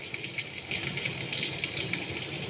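Hot water gushes and pours onto fried suji (semolina) in a pan while making uppudu pindi, a steady, close, rushing hiss that runs throughout with slight rattling.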